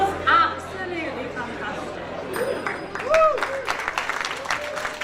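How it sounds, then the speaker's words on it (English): An audience at a live session applauds, a brief scattered clapping mixed with crowd chatter and voices talking over it at moderate distance. "Give her a round of applause."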